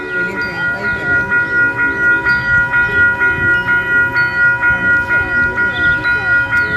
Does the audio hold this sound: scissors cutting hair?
no